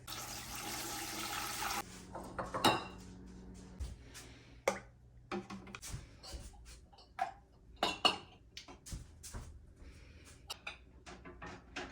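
Water pours into a Presto electric canner up to its fill line, a rushing stream at the start giving way to irregular knocks, clanks and handling noises of the pot and rack.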